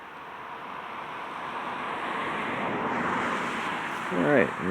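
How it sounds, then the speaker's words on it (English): A car passes by on a road beside a northeast pasture, a broad wash of noise that swells gradually over several seconds, with wind on the microphone and a voice speaking near the end. "let the car go by"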